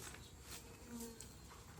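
Faint buzzing of honeybees flying nearby at a swarm trap, a soft droning hum over outdoor background noise, with no voices.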